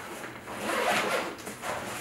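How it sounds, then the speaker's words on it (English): A zipper drawn shut on a camera bag gives a close, continuous raspy zip for about two seconds, with slight surges in loudness and no talking. "I zip this up so nothing falls out."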